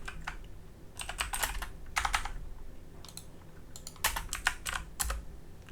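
Typing on a computer keyboard while working in CAD software: irregular bursts of quick key clicks and a few single taps, close and fairly quiet, with no voices.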